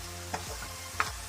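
Broccoli pasta stirred in a pan with a little added oil, two quick scrapes of the spoon over a low, constant hum and a faint sizzle, with no talking.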